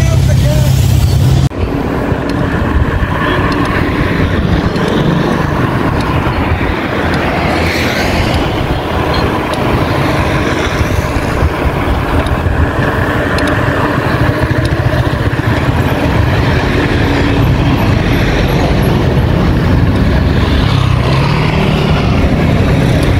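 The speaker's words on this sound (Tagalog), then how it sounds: "Traffic." Steady road traffic on a busy street in Naga City, Philippines, the day after a fiesta: continuous engine rumble and passing vehicles, with motorcycle-like revving at close range and voices underneath throughout.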